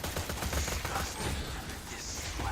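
Gunfire from a lobbing-arc gun in the Borderlands 2 video game: a dense run of rapid, repeated shots and thumps at steady loud level throughout, with faint voice underneath.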